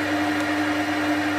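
A lathe turns EN24 chrome moly steel at 750 RPM with a 1 mm depth of cut, giving a steady, loud machine hum with a constant motor tone and no breaks.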